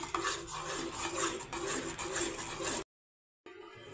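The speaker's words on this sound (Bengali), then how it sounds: "আমি একদম অনবরত নাড়তে থাকছি যাতে না জমাট বেঁধে যায়" Milk thickening in a pan on the stove is stirred without pause, giving a steady scraping, rasping rub of the spoon against the pan bottom that runs continuously, then cuts out briefly and resumes.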